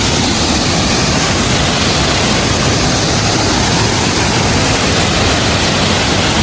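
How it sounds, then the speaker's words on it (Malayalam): Water rushing down rocks at Kadalukanippara: a loud, unbroken roar of flowing water, dense and steady throughout, with no voices over it. "താഴോട്ടാണ് വെള്ളം ഒഴുകണം"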